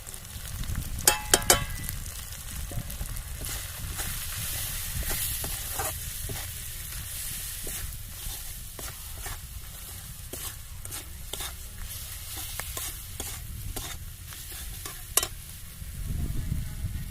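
Ground chilli, cumin, turmeric, salt and black pepper fry in a pan with a soft continuous sizzle, broken by frequent sharp scrapes and clicks of stirring, alone and fairly quiet.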